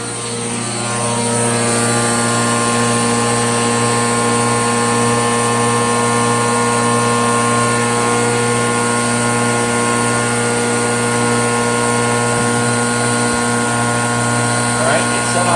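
A Rainbow D3C vacuum with a power nozzle runs on high, giving a loud, constant whining drone with strong tonal hum that stays unchanged after a short rise at the start.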